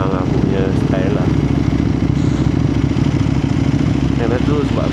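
A naked motard-style motorcycle rides along a highway in the morning, its engine a loud, close, steady drone throughout, with a voice briefly audible over it near the start and end.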